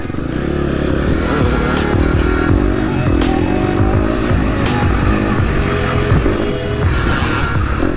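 KTM 790 Adventure R motorcycle ridden on an enduro trail, its engine loud and close throughout, revving hard and continuously with some clattering and tire noise, no talking.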